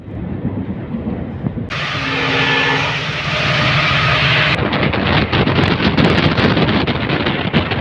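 The Uttar Banga Express pulls into Dinhata railway station, a loud, continuous rumble with a broad rushing roar that swells in the middle and then gives way to clattering, buffeting noise close by.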